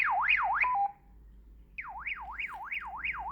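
An electronic alarm tone from a Baofeng two-way radio sweeps up and down in a rapid warbling pattern, pauses briefly, then resumes; clear and fairly close.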